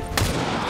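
A single weapon shot in the turn-based strategy game XCOM 2, War of the Chosen, a loud near crack over a steady wash of game ambience that runs on after it.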